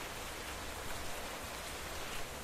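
Steady, dense hiss of rain falling in Minecraft, a constant wash of noise at moderate level with no voices or other distinct sounds over it.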